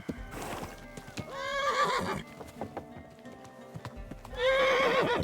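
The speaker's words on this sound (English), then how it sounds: "Stupid horse." A horse in the medieval video game Kingdom Come: Deliverance II gives two loud whinnies, one early and one at the end. Between them, clopping hooves and scattered clatter carry on.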